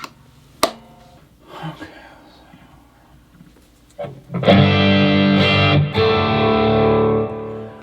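A few sparse plucked electric guitar notes through a Kemper profiling amplifier ring out, then a loud, sustained distorted chord crashes in and holds, thick with overdrive.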